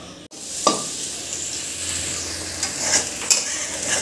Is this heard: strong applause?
no